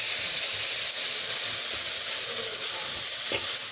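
Jaggery melting in ghee in a wok for an Assamese sweet, a loud, even, hissing sizzle with faint stirring clinks, close and continuous, no talking.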